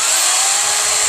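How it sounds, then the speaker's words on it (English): A power drill powered through a 750-watt inverter on a small Harbor Freight solar kit, running loud and steady with a high whining motor tone for about a second. "can run his power drill"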